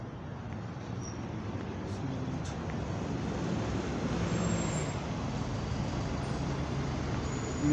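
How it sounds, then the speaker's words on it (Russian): Local city bus on route 757 passing along a street in autumn, a steady broad rumble of engine and tyres that swells toward the middle and holds, mixed with general roadway noise, no talk. "Местный автобус"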